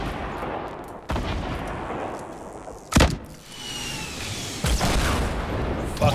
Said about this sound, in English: You're being shot at? Yeah, from up the hill at that tree.